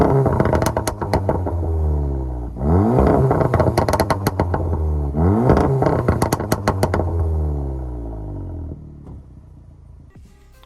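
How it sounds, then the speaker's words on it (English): A remapped car engine revs hard several times, pitch sweeping up and down in repeated surges with crackling pops, loud and close, then settles to idle. "Hope you enjoyed that little sound clip of the car there."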